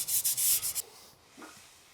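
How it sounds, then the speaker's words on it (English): Sandpaper rubs quickly back and forth across plywood by hand, several short rasping strokes close up, then stopping into quiet room noise. "I'm gonna sand this by hand."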